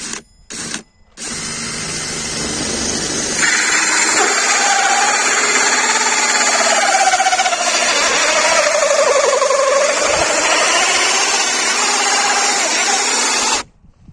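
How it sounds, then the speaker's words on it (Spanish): A cheap Chinese hole saw driven by a power drill cuts into wood, the motor whining loudly and steadily for about ten seconds after a couple of short bursts, then stopping abruptly. "sobre todo con esto que es una sierra copa muy ordinaria china"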